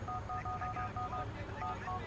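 Phone dialing tones in the game GTA IV, a series of short evenly spaced beeps played quietly over a soft background hum.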